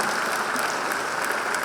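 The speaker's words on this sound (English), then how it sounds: "Big round of applause." An audience at a panel event with Zinedine Zidane claps in steady, dense applause, loud and continuous for a short burst.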